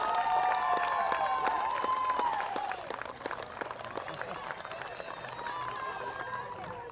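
Audience applause at a cricket award ceremony for a women's inter-state T20 tournament, a steady patter of claps under a raised speaking voice that thins out partway through.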